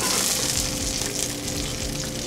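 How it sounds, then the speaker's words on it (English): Rope-cultured black mussels sauté in hot olive oil in a restaurant kitchen, giving a continuous close hiss and sizzle over a low background hum. "Start sauteing some rope cultured black mussels."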